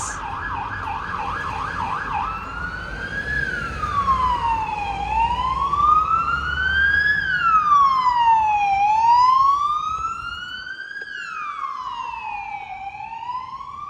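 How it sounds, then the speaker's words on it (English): An ambulance siren wails through a town street in Ibiza Town, its rising and falling tone sweeping loud and clear as the vehicle passes, with no talking over it. "So there's an ambulance."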